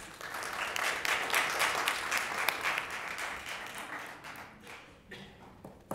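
Applause breaks out in a city board of mayor and aldermen meeting chamber, a smattering of hand claps that starts fairly full, then thins out and fades toward the end.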